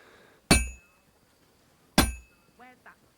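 Two sharp metallic hammer strikes ring out at a blacksmith's forge in Kingdom Come: Deliverance II, spaced about a second and a half apart, each with a bright clanging decay, followed by a brief faint voice.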